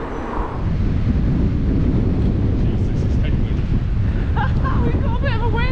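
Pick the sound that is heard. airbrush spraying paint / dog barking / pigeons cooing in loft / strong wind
strong wind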